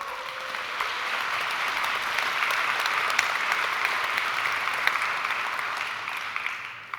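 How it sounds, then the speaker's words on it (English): Sustained audience applause fills a KotlinConf keynote hall, dense, steady clapping from a large crowd for about seven seconds before tapering off at the end, with no talking over it. "So let's applaud to year 2024 Foundation Grant winners,"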